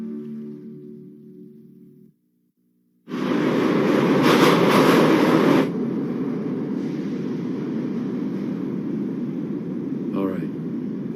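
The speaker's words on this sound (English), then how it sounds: "That was the last train for the night." A train passing in an anime scene: a short hum, a brief gap, then a loud close rush of rumbling noise that eases into a sustained steady roar to the end.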